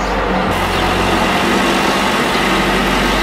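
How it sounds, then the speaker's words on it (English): A tractor engine runs steadily while spraying disinfectant, a loud continuous low rumble and drone holding evenly for a few seconds with no voices. "Like tractors spraying disinfectant everywhere."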